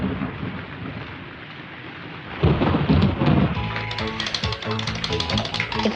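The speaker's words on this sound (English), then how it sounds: "It's only a storm." A thunderstorm builds from a steady hiss of heavy rain into a loud, close crack and rumble of thunder, with rain pattering on through the rolling boom.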